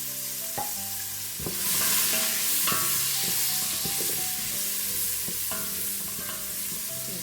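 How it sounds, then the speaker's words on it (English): Chopped onion and carrot sizzle steadily in butter in a hot pan, with repeated scrapes and clacks of a spoon stirring them, fairly close and continuous. "We're just going to get that frying off in that butter."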